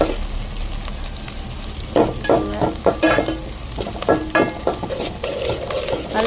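Curry leaves sautéing in hot oil for mutton curry, a loud continuous sizzle close by with repeated scraping and stirring strokes and crackling pops throughout.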